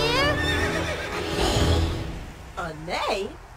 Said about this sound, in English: A neigh?